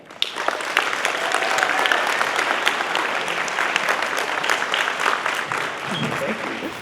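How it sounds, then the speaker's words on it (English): Conference audience applauding a keynote speaker at a UX talk, a dense, steady clapping from a large crowd that continues loudly throughout, slightly thinning toward the end. "let's put together a big round of applause for our keynote speaker, Kevin Liang"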